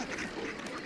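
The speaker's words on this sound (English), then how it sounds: "Tightly packed penguins produce quite a racket." A brief, harsh, braying penguin call from a tightly packed colony, raucous and close, lasting under a second.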